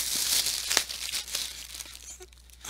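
A package being torn open by hand, with close crinkling and ripping of packaging in quick bursts that taper off, no one talking.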